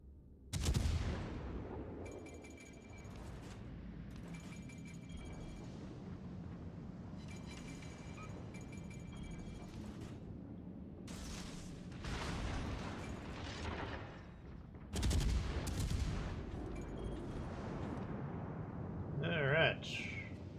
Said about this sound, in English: Concentrate fire on that enemy warship.